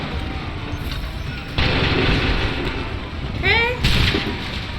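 Musket volley from the game Assassin's Creed 3 cracks out in two loud, broad bursts over a steady battlefield rumble, with a faint voice behind.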